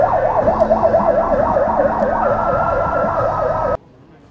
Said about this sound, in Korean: 구급차에 백 씨를 실었습니다.